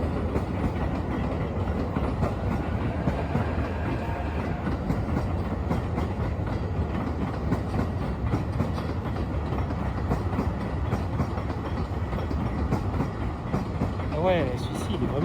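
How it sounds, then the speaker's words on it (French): Several trains rumble past at once, a continuous dense clattering roar of wheels on rails, steady and close throughout, ending with a brief high squeal. "Trois trains en même temps."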